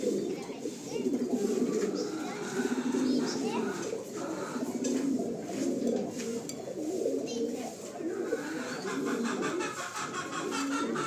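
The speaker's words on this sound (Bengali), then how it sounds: "এগুলোর কোয়ালিটি একেবারে যাকে বলে অসাধারণ কোয়ালিটির কবুতর" Homer pigeons coo softly and repeatedly in a flock, a low, continuous burbling that layers over itself at close range with little break.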